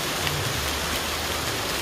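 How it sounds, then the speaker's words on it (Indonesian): Heavy rain pours down in a rural village in the afternoon, a dense, loud, continuous hiss of water striking surfaces, with no voices. "Hujan dari jam 11 kalau nggak salah loh, tadi ya sampai saat ini."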